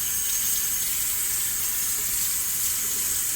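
Tap water runs from a kitchen faucet until it turns hot, a loud, constant hiss with no breaks that stays close for the whole stretch.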